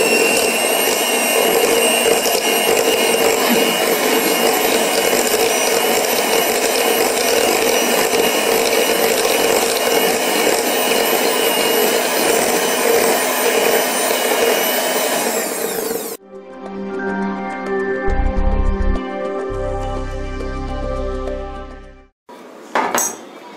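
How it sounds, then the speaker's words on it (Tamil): An electric mixer beats unsalted butter at low speed, a loud, steady motor whine held for about sixteen seconds before cutting off, followed by a few bowl and utensil clatters and a brief final burst. "இப்போ வந்து பட்டரை வந்து நான் வந்து லோ ஸ்பீட்ல பீட் பண்ண போறேன்"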